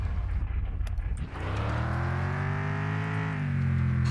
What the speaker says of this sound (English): Oh yeah, she sounds like a monster, dude.